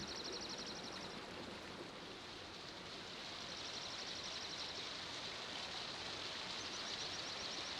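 Rainwater rivulets trickle and wash downstream after an afternoon rainstorm in the Shenandoah Valley, a soft steady hiss of running water, faint and continuous, with a high thin chirping along the top.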